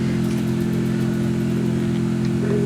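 A car engine in the Free Fire battle-royale game drones steadily as the vehicle is driven, a constant mid-pitched hum running unbroken from start to finish with no talk over it.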